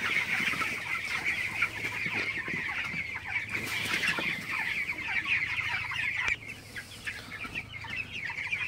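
Dense clucking and chirping from a crowd of 21-day-old broiler chickens fills an enclosed farm shed at night, steady and continuous with a low hum underneath.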